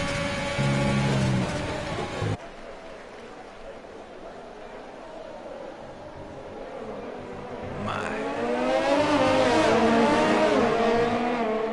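Race car engines at a Tuesday night club race roar past, loud and continuous with rising and falling pitch as cars accelerate, swelling again toward the end.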